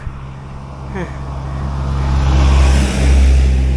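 A truck passes on a road climbing toward Taal, a low engine rumble swelling and staying loud through the second half, heard from a fixed-gear bicycle with some wind.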